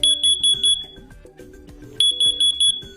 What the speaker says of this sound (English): When an alarm is triggered, you'll hear a loud 85 decibel T3 pattern chirp to alert you.